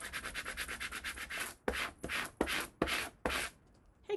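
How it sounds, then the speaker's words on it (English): A vinyl decal is rubbed onto a mylar balloon, with a quick series of close scratchy strokes followed by slower, longer rubbing passes with short pauses between them. "We're going to rub it in."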